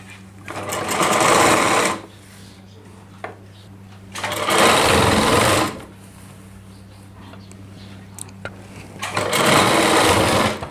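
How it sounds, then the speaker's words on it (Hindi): A sewing machine stitches the side seam of a heavy-work Rajputi lehenga in three loud runs of rapid whirring, with short quiet pauses between them. "इसके बाद हमें यहाँ पे एक सिलाई लगा देनी है।"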